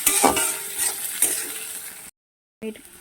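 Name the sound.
stirring spices frying in pan for hilsa recipe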